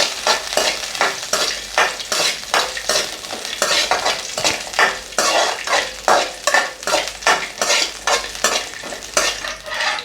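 Green chillies, ginger and garlic cloves sautéing in a hot pan for spicy tomato chutney, with a brisk rhythm of spatula strokes scraping the metal over a steady sizzle, loud and close.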